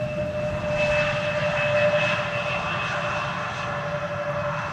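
A jet airliner rolls along the runway after landing at Amsterdam Schiphol Airport, a steady loud engine roar with a sustained whine and broad rumble, heard from a distance and without voices.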